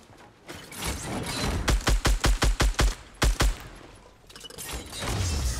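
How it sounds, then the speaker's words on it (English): Assault rifle fire in a video game: a steady run of sharp, evenly spaced gunshots in a rapid burst, a short pause, then two more shots, loud over a constant game background hum. "Couple more AR shots."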